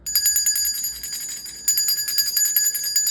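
Small hand bell rung to clear energy, bright metallic ringing in quick repeated shakes, a brief pause, then another burst of ringing, close and clear with no talk.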